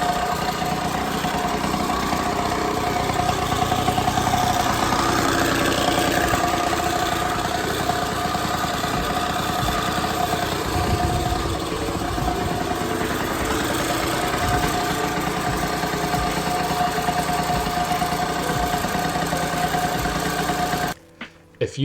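A small 60cc moped engine runs steadily throughout, a continuous mid-pitched drone with a faint whine, loud and close, cutting out abruptly near the end.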